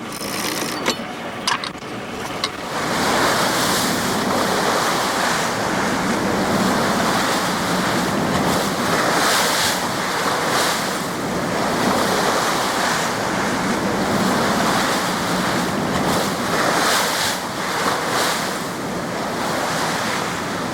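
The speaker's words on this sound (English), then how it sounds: "there are waves too" Surf and waves wash continuously across the shallow Laptev Sea, a loud, steady roar of breaking water mixed with gusting wind buffeting the microphone, with no voices present.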